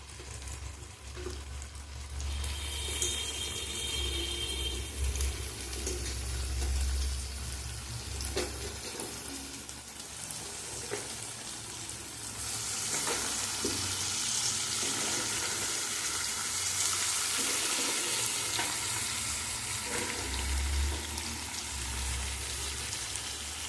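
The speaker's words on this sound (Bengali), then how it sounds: "মাংসটা ভালো করে কষাচ্ছি আমি।" Meat sizzles and spits as it is fried and stirred in a pan with whole garlic, a soft continuous crackle with occasional scraping and knocks of the utensil, close and fairly quiet throughout.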